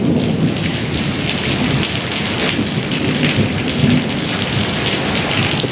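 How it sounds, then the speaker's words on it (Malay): Heavy rain pours steadily through a thunderstorm at an abandoned rest house, with a dense, loud wash of drops and low rumbling thunder rolling beneath it, continuous and without talking. "petir."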